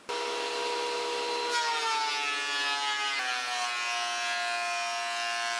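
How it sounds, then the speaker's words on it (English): A thickness planer whines loudly as wood panels feed through it, with a steady high motor tone that shifts in pitch partway as the cut engages, close and continuous. "I can go ahead and start planing them down to their final thickness here on the planer"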